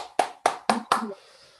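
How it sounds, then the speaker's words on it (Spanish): A few people clap in four distinct bursts, each a sharp crack fading quickly, spaced evenly, then the clapping stops; a small, close group. "Aplaudimos."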